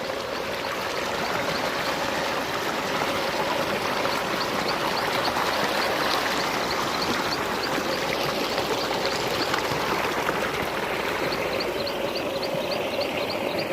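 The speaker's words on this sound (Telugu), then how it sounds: "పోతుంది నీళ్ళు" Water gushes steadily from a motor-driven irrigation pipe into a maize field, a loud continuous rushing flow, close by, with faint chirping insects or birds in the background.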